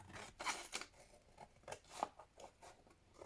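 Scissors trimming the edges of paper for a junk journal craft page: a series of crisp snipping cuts, close and quiet, spaced irregularly with short pauses between them.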